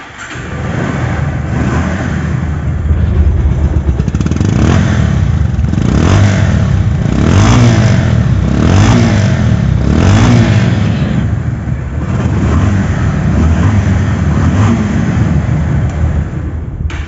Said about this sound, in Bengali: বাইকটির সাউন্ড কোয়ালিটি শুনুন